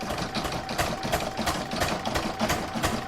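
An embroidery machine zigzag-stitches around raw fabric edges on a gift box design, a continuous loud mechanical whirr with a fast, even pulsing rhythm throughout.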